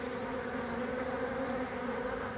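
Swarm of honeybees at an apiary, a dense continuous buzzing hum holding steady and fairly loud throughout, with no talking.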